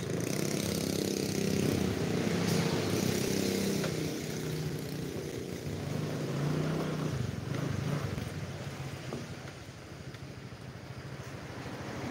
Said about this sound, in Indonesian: suara adem-adem aja ini motor